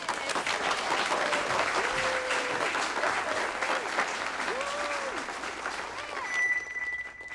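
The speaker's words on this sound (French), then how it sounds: "Applaudissez comme il se doit la prestigieuse environnementaliste issue des rangs de Degrassi, Madame Kathleen Ryan." A TV show studio audience applauds, a dense sustained clapping that swells and then tapers off, with a voice speaking over it.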